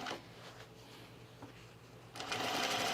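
Sewing machine running a straight seam down through fabric to meet earlier stitching around a box shape, a steady low mechanical hum that surges louder near the end of the short stretch, no talking.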